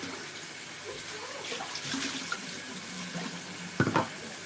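Cold tap water runs softly in a home kitchen while pastry dough is made for a Bakewell tart, a faint steady stream with a few louder splashes near the end.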